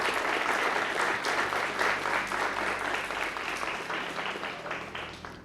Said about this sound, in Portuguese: Você pode dar uma salva de palmas em nome de Jesus?